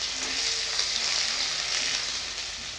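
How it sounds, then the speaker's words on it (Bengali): Dried red chili, bay leaf and chopped ginger sizzle in hot oil in a kitchen pan, giving a continuous bright crackling hiss at close range with no talking over it. "তেলটা ভালো মতন গরম হয়ে গেছে, তাতে দিয়ে দিব শুকনো লঙ্কা,"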